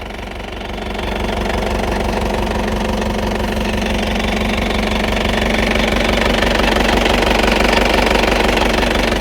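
A 2000 Mahindra Marshal SUV's 2500 cc engine runs at a loud, steady close-up idle with a rhythmic knocking clatter, starting just before the one-second mark and holding evenly to the end.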